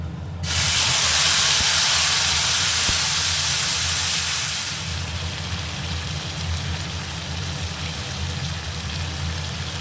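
Whole spices with dried red chilli and bay leaf hit hot oil in a pan, giving a loud burst of sizzling hiss that settles after a few seconds into a steady quieter crackle.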